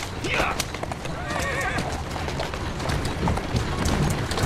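A horse in Assassin's Creed Syndicate whinnies loudly up close while hooves clip-clop at a quick pace, with sharp game-like sound effects layered throughout.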